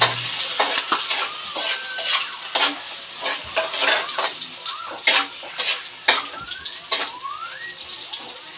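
Garlic, onion and ginger sizzling in a frying pan while being stirred, a steady hiss punctuated by repeated scraping strokes of the utensil against the pan, close and fairly loud.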